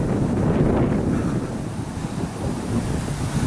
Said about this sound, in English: Man, it is getting windy out here today.